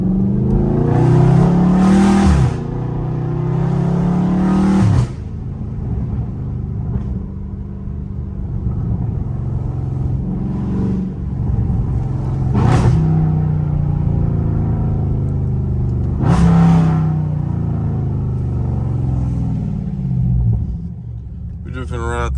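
A Dodge Scat Pack in sport mode, its engine rumbling loudly with repeated revs and rising surges while driving through a neighborhood, someone talking over it throughout.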